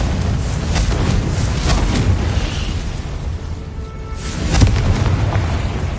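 Confringo blasting spells in Hogwarts Legacy go off as deep, rumbling booms over continuous low-end roar, with a sharper blast near the end.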